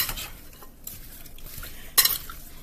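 Food being tossed in melted butter inside a small bowl gives soft stirring and scraping sounds with light clinks of a utensil against the bowl, ending in one sharper knock near the end.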